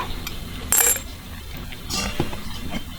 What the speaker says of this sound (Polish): W buteleczce, w naszej oczyszczonej buteleczce umieszczamy kluczyk.